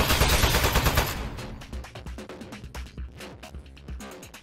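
Turret gunfire in the video game Aperture Desk Job, a dense loud burst of rapid shots at the start, then quicker, thinner repeated shots with a short pause before firing resumes.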